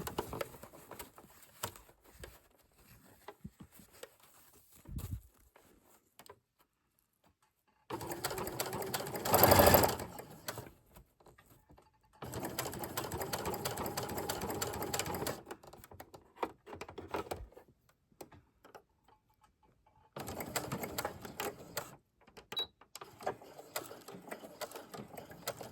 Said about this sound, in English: then you're just stitching down to the mark where you want your zipper to end